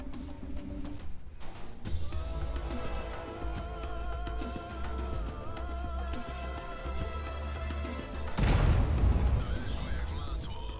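Heavy tank cannon blasts boom through a constant engine rumble and game noise, with a loud burst near the end.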